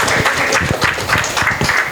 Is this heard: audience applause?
yes